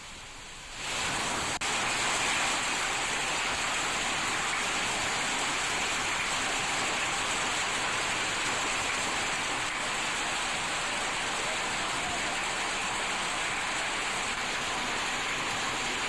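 A heavy downpour with hail falls on Parigi town in Vikarabad district, a dense, loud, unbroken roar that swells in after the first second and holds steady.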